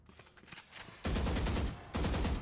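A gun fired through cover on the Breeze map in Valorant, with quieter scattered shots giving way to two loud, sustained bursts of rapid automatic fire, close and dominant.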